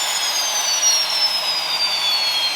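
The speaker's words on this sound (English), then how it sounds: "and then shut the engine down." Turbine engine of a Turbine Thunder Mustang aircraft winding down, a loud steady jet whine with a slowly falling high-pitched tone, heard alone without voices.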